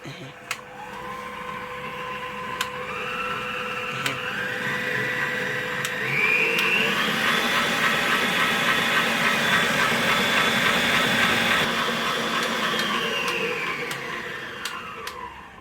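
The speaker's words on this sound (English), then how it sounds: "Now it has been whisking for 3 minutes." An electric mixer whisks simple cake batter in a bowl, a steady motor whine that ramps up in speed partway through and holds for several seconds before easing down, loud and continuous with no talking.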